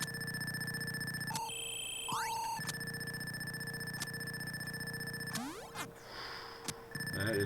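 Electronic beeping tones and synthetic warbles from the Atari 2600 game Cosmic Ark repeat over a steady droning hum, with sweeping chirps and a sustained alarm-like tone running through the gameplay.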